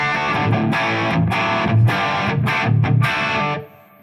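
Electric guitar run through an Odysseus overdrive pedal set to its jazz mode, playing loud distorted chords in short bursts with brief gaps, then cut off and fading near the end.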